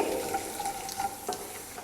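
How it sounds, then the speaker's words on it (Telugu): Soft, steady sizzling of tempering spices frying in hot oil, with faint crackles and pops throughout. "ఈ పోపు దినుసుల్ని కాస్త వేగనివ్వండి"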